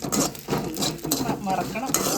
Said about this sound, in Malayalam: ഉള്ളിൽ കിടക്കുമ്പോൾ ഉണക്ക ചെമ്മീനും തലയും കൂടി ഇട്ടിട്ട് മുളക് കൂടി ഇട്ടിട്ട് ഒന്ന് ചൂടാക്കി എടുക്കണം